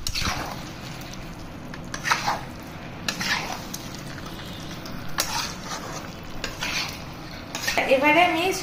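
Fried potatoes being stirred into mutton kasha in a pot, with a spoon scraping and clinking against metal over a soft sizzle, in several close bursts.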